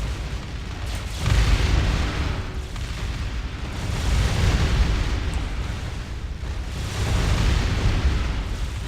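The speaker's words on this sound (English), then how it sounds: "Let me just have the troopers bombard it, actually. Bombard the planet." Troopers bombarding a planet in the space strategy game Distant Worlds Universe, heard as a rolling series of deep, booming blasts that swell and fade in several waves, with a constant low rumble underneath.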